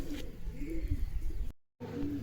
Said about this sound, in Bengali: তোমাদেরকে আমার কিছু বাড়ির অল্প কিছু কবুতর দেখাবো